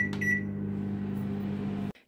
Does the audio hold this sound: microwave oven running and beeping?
yes